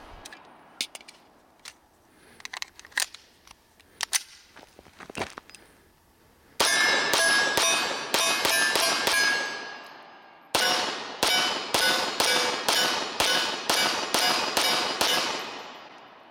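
A Beretta M9A3 pistol fitted with LOK grips fires outdoors. Scattered single shots come first, then two rapid strings of sharp, ringing reports in quick succession, loud and close, with no talking.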